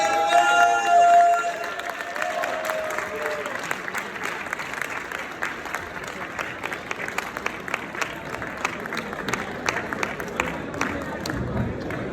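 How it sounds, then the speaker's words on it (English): Sustained applause from a crowd, steady clapping with some cheering after a brief voice at the start. "Give them a very big round of applause."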